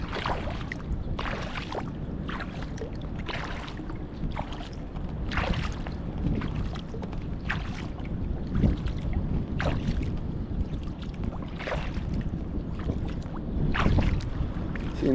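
Kayak paddling on the Cuyahoga River, with rhythmic paddle strokes splashing at a steady pace about once a second over continuous water and wind noise.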